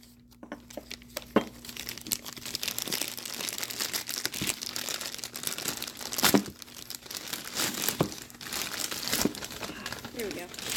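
A subscription coffin box package being opened by hand, with continuous crinkling, tearing and crackling of packaging, several sharper rips, and speech-like sounds mixed in at times.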